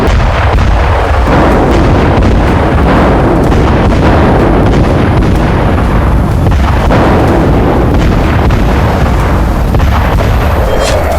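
Missile strike explosions in Ukraine during the Russian attack, a loud, continuous barrage of booms and rumbling blasts that overlap with no pause, heavy and close.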